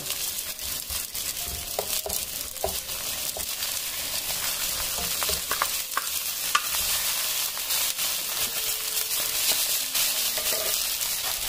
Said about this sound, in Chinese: 然后倒入虾仁和猪肉片，一块炒一下，翻炒一下